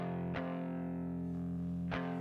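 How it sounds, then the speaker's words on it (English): A looped layer with added reverb sustains a thick, distorted harmonic drone, broken by two sharp, percussive bursts about one and a half seconds apart that smear into a reverberant tail. "Go to the sends, add some reverb"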